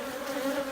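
Honeybees buzz at an open beehive in a continuous, close, steady drone that fills the short moment without any talk.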